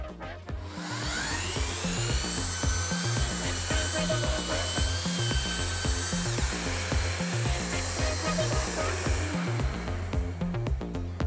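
A Festool Planex drywall sander runs continuously with its vacuum extraction on, a steady loud motor whine over a dense mechanical rattle, close by with no speech.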